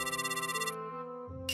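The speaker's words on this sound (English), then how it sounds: "that's the house phone." A house phone rings with a bright electronic ringtone, a quick warbling burst followed by a few held melodic tones. The ringing is clear and close, and no one speaks.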